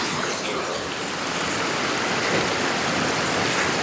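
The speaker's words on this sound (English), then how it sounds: "And this nice little creek or river." A small creek or river in Michigan's Upper Peninsula, near two bridges, rushes steadily in a dense, even wash of water noise that holds at a constant loudness throughout with no talking.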